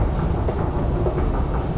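A Vienna subway train rumbles loudly and close in a dense, continuous roar of wheels and car noise, with no voices.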